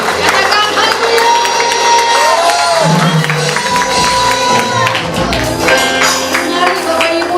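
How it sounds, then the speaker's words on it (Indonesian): Church congregation clapping and cheering at a Sunday service, a loud crowd with shouts over the applause and other voices mixed in. "Sekali lagi berikan tepuk tangan pagi hari ini bagi Yesus Tuhan kita"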